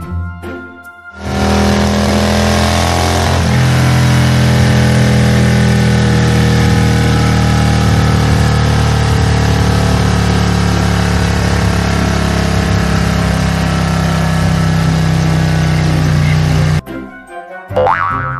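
A motorcycle engine runs at a steady, loud drone for about fifteen seconds. Its tone shifts slightly partway through, and it cuts off abruptly near the end.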